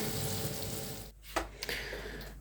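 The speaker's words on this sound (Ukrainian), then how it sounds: "Нагетси смажу на плитці газовій" Steady sizzling of nuggets frying in a pan on a gas stove, a constant crackling hiss with a few soft clicks and clatters partway through.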